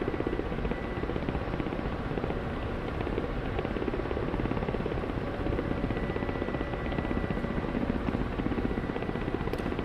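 Steady, dense rotor thrum of a Ka-50 Black Shark attack helicopter coming in to land in the DCS flight simulator, a continuous loud whirring drone with no voices over it.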